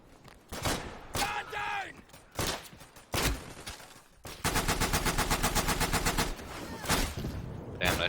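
Bren and Lewis machine guns fire in the World War II shooter game Day of Infamy, with short single bursts followed by a long, loud rapid-fire stream of rounds and a few more shots after.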